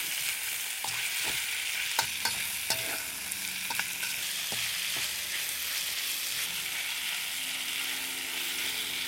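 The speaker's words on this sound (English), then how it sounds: "Okay, I put some onion in it." Onion frying in a pan for bulgogi beef gives a steady sizzle, broken by several sharp scraping and tapping knocks from stirring, close and moderately loud with no voices.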